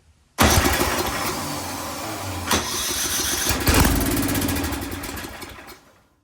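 An Ariens 1130LET track snowblower engine cranks and catches after a brief silence, then runs steadily and loudly at close range with a couple of revving surges before cutting off near the end.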